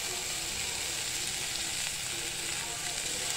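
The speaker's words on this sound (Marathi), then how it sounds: "आता हे टोमॅटो सुद्धा आपल्याला मऊ होईपर्यंत परतून घ्यायचे।" Chopped tomatoes and garlic frying in a pan for farsan bhaji, a continuous even sizzle of hot oil, close and steady, without speech.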